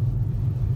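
A car travels along I-75 through a winter storm in Crawford County, Michigan, producing a loud, steady low road and engine rumble with no voices.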